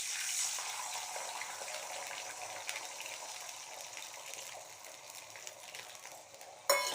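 About two and a half tumblers of water pour into a cooking pan while rice dumplings are being made, a steady rushing gush that lasts several seconds and ends with a sharp clank.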